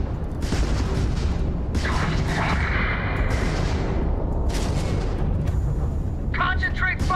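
Heavy explosions and rapid weapon fire from ship-to-ship space combat in Starfield, a loud continuous barrage with booming bursts layered over each other, with voices talking over the din.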